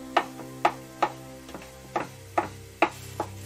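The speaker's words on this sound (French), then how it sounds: "profitez-en pour râper un peu de gingembre et émincez la coriandre" Fresh coriander chopped with a knife on a board, a run of about a dozen crisp, evenly spaced taps, close and clear, over a faint low background hum.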